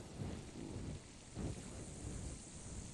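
Thunderstorm in the video game Ark, with steady rain hiss and low rolling thunder swelling twice, moderately loud and continuous with no voices.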